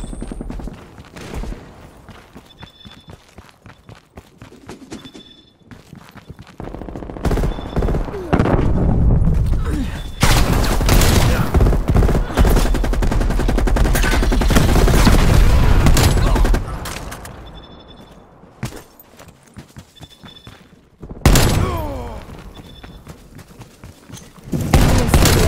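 Rapid automatic gunfire and explosions from Call of Duty Black Ops Cold War team deathmatch play, with loud sustained bursts, sharp single shots and quieter gaps between them.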